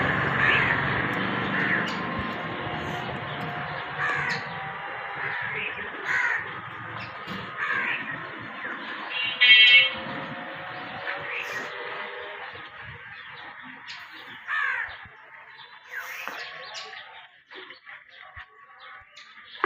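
Crows caw repeatedly outdoors, with harsh calls coming in bursts at mid distance. A faint murmur of voices and background noise runs underneath.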